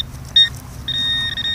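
Metal detector signal while digging a coin target in Poland, two short close electronic tones, a brief beep followed by a longer sustained one.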